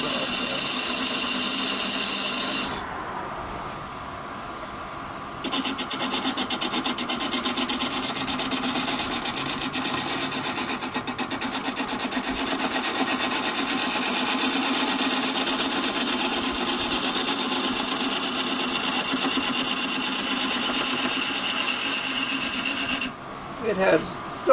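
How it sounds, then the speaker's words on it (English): Skew chisel shaving a maple salt box spinning on a wood lathe, a steady loud rushing scrape with the motor's whir underneath, broken by a short quieter gap early on and ending as the cut stops. "I'm going to take my skew and just round it off a little bit, make sure it's balanced."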